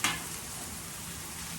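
Bacon sizzles on a grill, a soft, steady crackle and hiss opening with a brief louder burst, with no talking over it.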